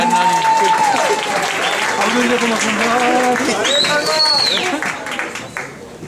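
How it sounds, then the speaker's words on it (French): An audience claps to welcome a beauty pageant contestant onto the stage, loud sustained applause of many hands with a host's voice and a bit of music or tones over it, tapering off toward the end. "J'accueille la candidate numéro 2, sous vos applaudissements."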